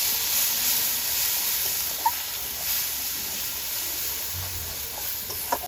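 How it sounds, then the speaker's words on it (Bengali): Masala with tomato paste, salt and turmeric fries in a pan, giving a steady, close hiss of sizzling with a couple of faint clicks and no talking. "মশলাটা কষিয়ে নিচ্ছি।"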